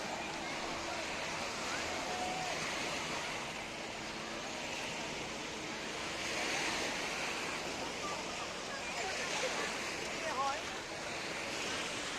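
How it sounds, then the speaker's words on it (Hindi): Surf washing steadily onto Jomtien Beach in Pattaya, Thailand, a continuous broadband wash of breaking waves with some wind noise, heard alone without talk. "मैं इस वक्त हूँ चोमतिन बीच पे, जो कि पटाया का ही एक बीच है"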